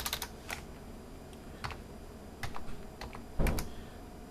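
Scattered clicks from a computer keyboard, close and fairly quiet, come in short bursts with pauses between, ending on a slightly heavier keystroke cluster; no one speaks.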